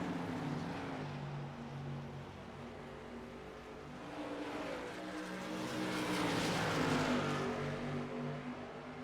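Race cars in the iRacing simulator at New Hampshire Speedway, a steady droning engine roar that swells louder toward the end as cars pass close.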